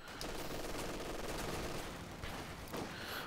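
Machine gun fire in a war strategy video game, a dense continuous rattle of rapid shots mixed with other battle noise, sustained throughout at an even level.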